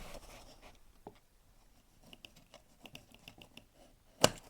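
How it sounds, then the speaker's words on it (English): Scissors trimming strips of tape: soft, scattered close-up snips and small clicks over a quiet room, ending in one sharp louder click. "I'm going to trim this tape"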